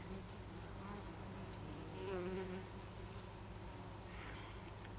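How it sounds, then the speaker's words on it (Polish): Bees buzz as they pollinate raspberry flowers in an autumn raspberry patch in summer. A soft, continuous insect drone rises briefly as one passes nearer, over faint outdoor background. "Pszczółki pięknie pracują. Zapylają kwiatuszki."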